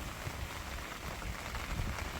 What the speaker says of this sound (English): I am now desperately trying to stay out of the rain, but as you can see I'm getting soaked.